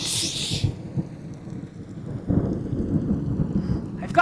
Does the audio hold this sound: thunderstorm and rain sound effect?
yes